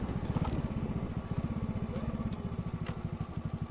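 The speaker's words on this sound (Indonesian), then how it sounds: "Ini kayaknya nggak enak, kenapa motornya di belakang bunyi." A motorcycle engine on a mountain road runs with a fast, steady pulsing rumble, a loud rhythmic chugging that holds throughout, joined by faint clicking from the rear where a part has broken.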